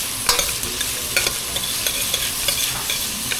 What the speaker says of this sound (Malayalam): നല്ലപോലെ ഇതൊന്ന് വഴറ്റാം. ചെറിയ ഫ്ലെയിമിലാണ് ഞാൻ വെച്ചിരിക്കുന്നത്.